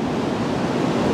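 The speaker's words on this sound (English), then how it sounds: "Wow, and it's windy." Wind gusting across a high viewpoint over a gorge, a steady broadband roar buffeting the microphone throughout the short moment with no other sounds.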